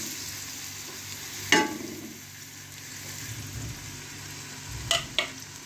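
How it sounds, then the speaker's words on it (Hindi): Chopped onions fry in hot ghee in a cooking pot, a soft continuous sizzle broken by a few clear clinks and scrapes of a stirring spoon against the metal. "तो प्याज को हम जो है ना वो अच्छे से भून कर लेते हैं पहले।"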